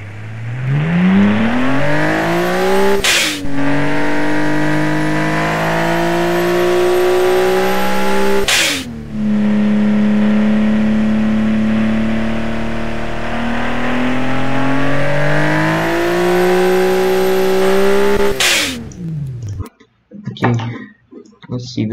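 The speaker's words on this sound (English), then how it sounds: "Let's hear how it sounds. Boxers always, always, always sound epic." A boxer-six engine in an 800 hp British supercar built in the game Automation revs repeatedly, rising and falling in pitch with brief gear-change clicks, loud and close, then cuts off near the end.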